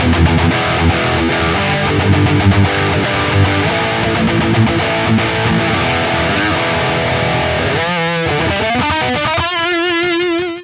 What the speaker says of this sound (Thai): เดี๋ยวเราไปลองฟังเสียงแตกจากอัลเตอร์สปีกันดูดีกว่านะครับเริ่มจากปิกอัพตัวที่4นะครับ